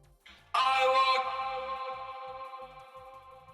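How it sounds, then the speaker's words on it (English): A sustained, bright tone in FL Studio 20 swells in abruptly and rings on with a long, washy reverberant tail, heavily drenched in reverb at about 80 wet level, with no talking. "So it sounds like this with reverb"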